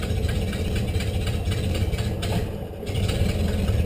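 A 1930 Ford Model A engine, started after 37 years of storage, idles with a steady, slightly uneven mechanical chug at close range with no talking.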